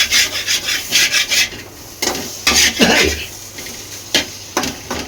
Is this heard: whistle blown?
no